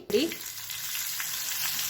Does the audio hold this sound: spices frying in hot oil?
yes